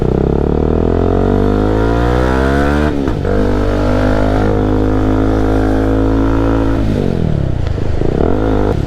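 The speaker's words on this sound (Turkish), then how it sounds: "Köpek gibi egzoz patlatıyor." A Kawasaki NK250 motorcycle with an Akrapovic exhaust revs loudly and close, pitch rising and falling with sharp dips where the exhaust crackles and pops, no voices.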